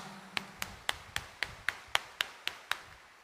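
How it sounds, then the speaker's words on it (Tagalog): Hand claps in a church during a homily, about ten evenly spaced sharp claps in a steady rhythm, fairly faint with a quiet room behind them. "itaas nga ang kamay at pumalakpak ng mas malakas"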